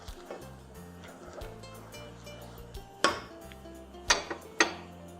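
Lentils are stirred into a pot with a utensil, soft scraping with a few sharp metallic clinks against the pot, close and fairly quiet.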